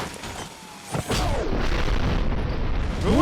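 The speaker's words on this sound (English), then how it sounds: "Who would have thought the grenade guy would shoot grenades?" Grenades launched by a grenadier enemy in RoboCop Rogue City, with a heavy boom near one second followed by sustained rumbling explosion noise and a rising whistle at the end.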